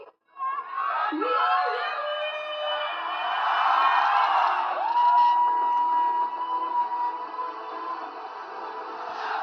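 A protest crowd moving along Madan Bhandari Road raises loud, sustained shouts and whoops, a dense wall of many voices that swells and holds for several seconds.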